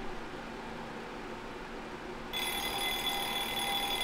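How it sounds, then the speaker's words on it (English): A video game alarm clock starts ringing abruptly partway through, a steady bright electronic tone over a quiet background hiss that continues loudly to the end. "Ah, I opened my eyes at the alarm."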